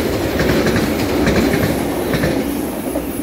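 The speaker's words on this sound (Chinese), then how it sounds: "278次准备通过" A Taroko Express TEMU1000 tilting train, set TEMU1003+TEMU1004, passes close by with a loud, steady rumble and rhythmic clickety-clack of wheels on the rails, fading slightly toward the end.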